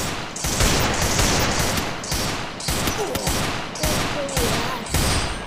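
Loud automatic gunfire from the mobile shooter Free Fire comes in repeated rapid bursts with short gaps between them, sounding close and harsh with no speech over it.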